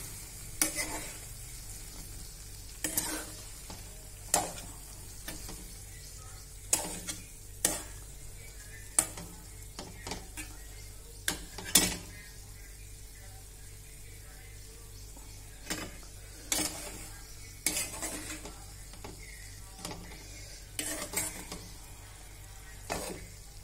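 Eggplant and potato pieces being stirred in a spiced masala in a pan, with repeated scraping strokes of a spatula against the metal over a steady low sizzle, close and moderately loud, with no talking.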